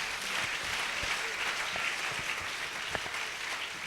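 A church congregation applauds during a fasting and prayer service, a steady, moderately loud wash of many hands clapping at once, with a few sharper individual claps standing out.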